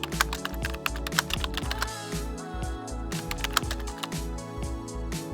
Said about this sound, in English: Then type in the name of your item.